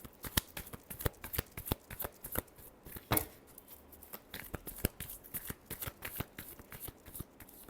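Tarot cards are shuffled by hand in steady quick riffling slaps, close and fairly quiet, repeating throughout with no talk.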